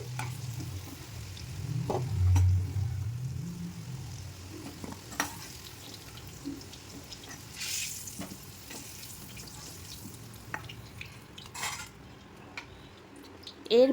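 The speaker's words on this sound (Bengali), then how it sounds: "এরপর আমি একটা বাটিতে কুমড়ো উঠিয়ে নিচ্ছি" Fried sweet pumpkin pieces are scooped out of a pan of hot oil into a bowl, with a soft sizzle, a few scattered spoon and pan clicks, and brief clatters close by, and no talking.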